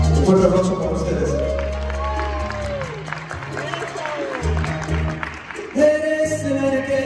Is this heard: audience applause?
yes